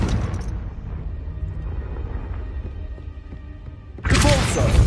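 Confringo blasting spell in a Harry Potter video game, a loud burst that ends a stretch of low rumbling and settles into a sustained, bright roar.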